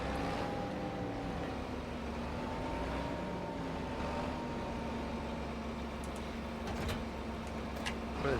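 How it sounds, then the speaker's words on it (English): A 9RX tractor engine runs with a continuous, loud droning hum that holds a steady pitch throughout, with no talk over it. "The tractor's pretty loud though."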